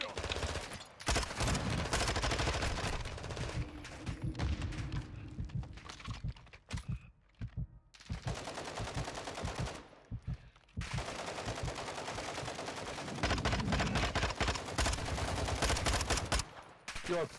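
Rapid bursts of automatic machine gun fire from a GTA-based Grand RP game, loud and dense, with sustained volleys broken by short pauses and a near-silent gap partway through.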